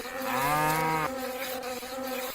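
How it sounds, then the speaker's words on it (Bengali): In the Meena 2 video game, a steady buzzing drone like a mosquito persists while a brief lowing, moo-like tone swells and ends about a second in. "ওকে খাওয়াইতেছে, আবার মশাও আমাদের বিরক্ত করতেছে।"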